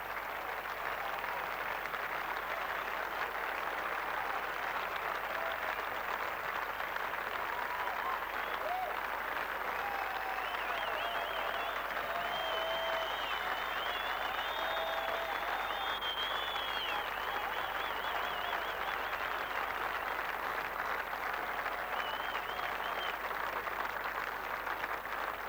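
Sustained applause from a large golf gallery greeting a player coming up the 18th hole at Croydon Golf Club in Victoria during the final round of the 1999 Australian Open, steady and full throughout with no talk over it.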